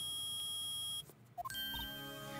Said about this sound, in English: It's beeping! The metal detector's found something!